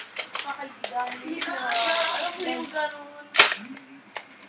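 Nerf Strongarm toy blaster handled and cocked, with plastic clicks and ratcheting rattles, one sharp snap near the end, and a voice talking over part of it.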